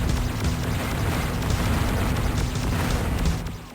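Booming explosions in the video game Descent as mines are blown apart by cannon fire, set in Tethys H2O Mine on level 17, forming a dense, continuous low rumble of blasts for nearly four seconds with no speech.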